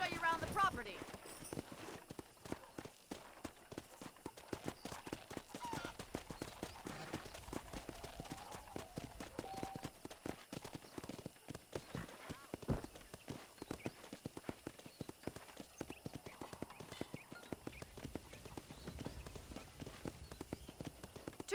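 A horse clip-clops steadily along in Red Dead Redemption, its hoofbeats an even walking rhythm that continues throughout, with voices talking over it.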